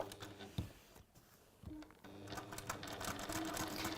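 Sewing machine stitching in bursts, with brief pauses between runs of rapid mechanical clatter, close and fairly loud, with someone speaking faintly around it.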